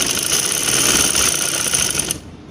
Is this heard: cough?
no